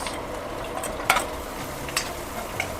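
Onions sautéing in a shared pan for Ilonggo-style ginisang monggo, a steady soft sizzle with a few sharp stirring scrapes and clinks cutting through, no voices.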